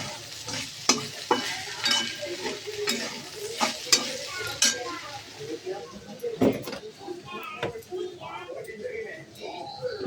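Dry grated coconut and spices sauté in a pan, with sharp scraping stirs and clinks of the spoon over a soft sizzle, close and irregular throughout.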